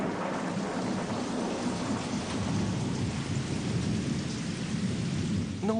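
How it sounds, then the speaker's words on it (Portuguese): Steady rain falls in a dense, even hiss over a low rolling rumble of thunder, with no voices. "A chuva começa a cair."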